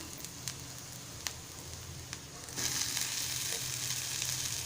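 Onion fries in oil in a home kitchen, a faint crackling sizzle with a few spoon taps that suddenly swells into a louder, hissing sizzle partway through, with no talk.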